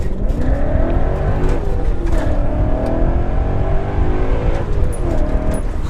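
A BMW E39 M5 fitted with an ESS VT560 supercharger kit drives hard, its engine droning loud and steady from inside the cabin with rising revs and shifting harmonics throughout, no talking.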